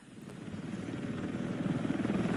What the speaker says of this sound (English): we're in the InGen chopper